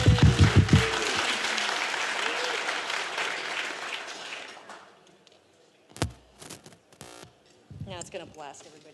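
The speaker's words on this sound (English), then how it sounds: "Everyone give a hand to Evan, our sound guy" Audience applause at a DEF CON 22 security conference talk, a dense burst of clapping from the crowd that lasts about five seconds, then fades into scattered handling noises and brief speech.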